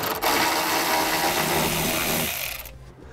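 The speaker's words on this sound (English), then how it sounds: "We'll go ahead and remove it using a 10 millimeter socket." On a 2015 Nissan Rogue, a 10 mm socket on a power driver spins a bolt out in one loud, continuous whirring burst of close mechanical noise that cuts off abruptly.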